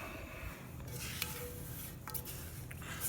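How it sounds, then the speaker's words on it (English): A deep, dark roux is stirred into a pot of seafood gumbo with a wooden spoon, giving faint scraping and stirring against the pot over a soft low hum, with a few light clinks. "Okay, now it's time to get the roux in here."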